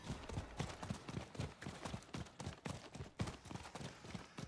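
A horse mount gallops in Diablo 4, its hooves making quick, rhythmic clip-clop beats that keep on steadily at a soft, even level.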